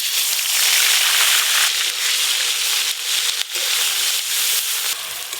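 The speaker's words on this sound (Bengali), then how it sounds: "তেল বেশ ভালো করে গরম হয়ে গেল, পেঁয়াজ বাটা দিয়ে দেব" Onion paste hits hot mustard oil and fries with a loud, dense, steady sizzle and crackle close by. It dips briefly near the middle and then carries on without a break.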